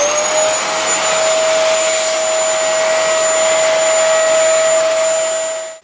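An old, uncleaned Dyson vacuum cleaner runs with a loud, steady whine and a constant high-pitched tone, close up and unbroken until it cuts off at the end.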